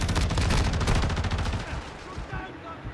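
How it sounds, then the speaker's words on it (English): Shotgun firing in Call of Duty, loud rapid booming shots in a dense cluster that fades into faint game noise. "how does a shotgun have that good of a range?"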